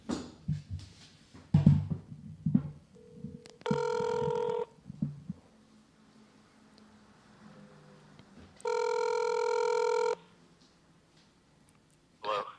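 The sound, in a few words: telephone ringing during outgoing call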